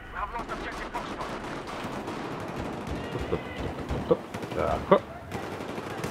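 Gunfire from a sniper in an online shooter video game: a few sharp shots ring out amid battle noise near the end, under steady talk from players.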